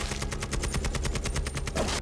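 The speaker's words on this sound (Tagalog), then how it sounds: "Sunod-sunod ang putukan." Rapid automatic gunfire used as a sound effect in a dramatized crime story, a fast, even burst of loud shots rattling continuously without voices.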